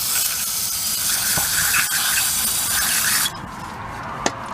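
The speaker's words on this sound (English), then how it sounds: "And then I'll just take some brake cleaner and blast this off." Brake cleaner sprays hard onto a rear brake caliper of a 2010 Ford Edge in a loud, continuous hiss for about three seconds, then stops, followed by a faint clink.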